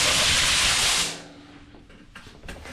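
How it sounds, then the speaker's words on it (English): Primer is sprayed from a can onto car parts in a short, loud, close hiss that stops after about a second, followed by faint handling noises and small clicks. "I'm gonna tape off basically here and up here, and then I will shoot some primer on them."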